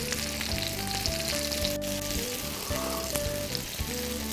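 Shrimp tteokgalbi patties frying in a pan, turning golden, with a steady dense sizzle running throughout, while tonal background music plays over the frying.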